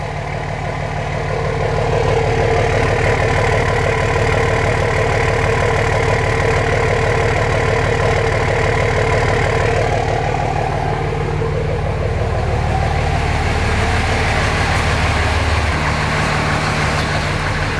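Cummins diesel engine swapped into a Ford F-350, idling steadily and loud with a rough low rumble and a faint rhythmic clatter, heard from close by with a slight shift in tone near the end.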